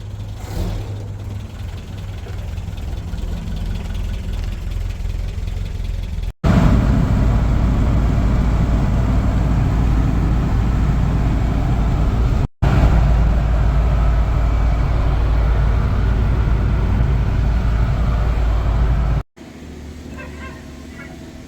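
A 1985 Toyota pickup with a 22R engine runs close by after exhaust manifold gasket repairs, a steady low rumble that jumps louder and deeper in two sustained stretches, broken by short dropouts.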